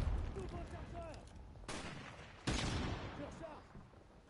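Sniper rifle shots in the video game Modern Warfare Remastered, two sharp loud cracks a second apart with ringing decay, amid chirpy game sounds and a brief voice.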